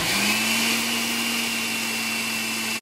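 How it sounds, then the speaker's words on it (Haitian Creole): An electric blender whirs steadily, blending maize grains with water for akasan, a loud continuous motor drone with a sustained hum that cuts off abruptly at the end. "Puis on va blender."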